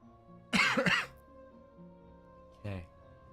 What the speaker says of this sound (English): today is randomly cold, so expect coughing